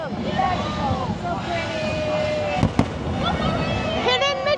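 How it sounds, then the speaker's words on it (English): Fireworks burst at night over Magic Kingdom near the Barnstormer coaster, two sharp booms cutting through a busy crowd and ride wash, with people's voices and whistling tones around them. "Barnstormer at night. With the fireworks."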